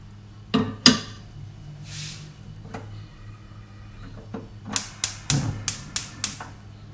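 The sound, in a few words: pot with cinnamon and star anise put on stove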